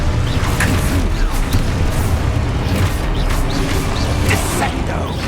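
Confringo spell blasts in Hogwarts Legacy, a run of booming fiery impacts landing in quick succession under a dense, loud wash of game noise and music.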